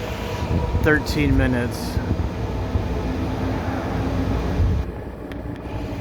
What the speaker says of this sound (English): there goes a train with no passengers